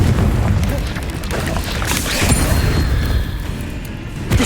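A Confringo fire spell exploding in the video game Hogwarts Legacy, a loud, close, rumbling boom with crashing debris that keeps rolling for several seconds.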